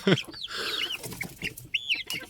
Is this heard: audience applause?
no